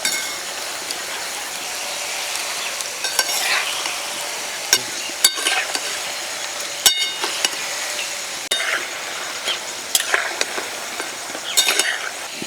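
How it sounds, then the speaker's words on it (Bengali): Cabbage pakoras fry in oil over a low flame with a steady, moderate sizzle, interrupted now and then by sharp metallic clinks and taps of a utensil against the pan. "পকোড়াগুলো লাল লাল করে ভেজে নিয়েছি, এবার তুলে নেব।"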